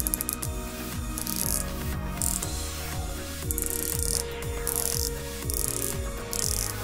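A Squale 1545 Heritage Root Beer dive watch bezel being rotated, giving a steady run of close, crisp ratcheting clicks in quick regular bursts, alone with no talking.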